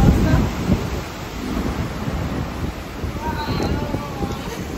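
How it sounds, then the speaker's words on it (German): Roaring storm wind buffets the microphone while sea water sprays and rushes around on a ferry deck bound for Iceland, a constant heavy rumble with a faint voice briefly underneath. "Wir haben einen massiven Sturm. Da bläst die ganze Zeit Wasser auf."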